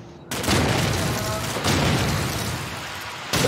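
Grenade blast in Call of Duty 4 on the Shipment map, a loud broadband burst with a long rumbling tail, followed by a second sharp hit near the end amid game noise.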